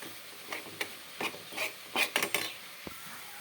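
Masala powder stirred and fried in a pan, giving a faint sizzle broken by several short scraping strokes of a spoon against the pan, close and quiet.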